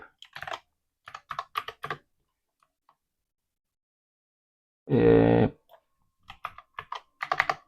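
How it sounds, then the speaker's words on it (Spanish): Clicky computer keyboard typing in short bursts of keystrokes separated by pauses, with one brief loud buzzing burst in the middle, close and clear with no talking. "Mi teclado está un poco desconfigurado."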